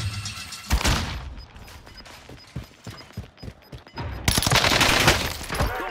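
Gunfire in a battle royale shooter match: a rapid string of close, punchy shots and mechanical clicks, then a loud sustained burst of automatic fire near the end, with no voices.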